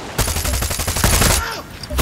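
Rapid automatic gunfire in Far Cry 6, a loud burst of closely spaced shots lasting over a second, then a brief lull and another shot at the end.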